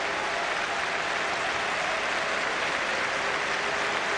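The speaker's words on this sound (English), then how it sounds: "A round of applause for a local radio reporter in the Midlands, Colin Bloomfield" Football fans at a Burton Albion stadium match applaud together in a dense, steady wash of clapping that holds at an even level throughout, with no voices standing out.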